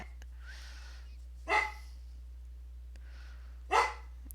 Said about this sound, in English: She sees a light move and she thinks that there's somebody at the door, so she has to bark at